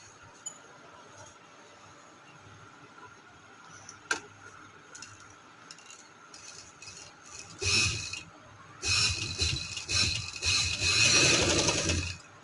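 A sewing machine runs a slanted stitch along a neckline strip. Soft ticking and handling noises come first, followed by several louder bursts of close, rapid machine stitching.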